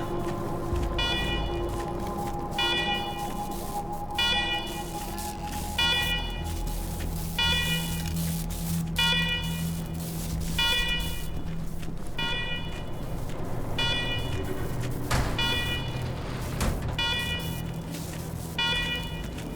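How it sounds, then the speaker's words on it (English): An alarm blares in the post-apocalyptic game Wasteland 3, a repeating pulsed electronic tone over a steady hum, sounding continuously and fairly loud. "Alarm! Alarm! Alarm!"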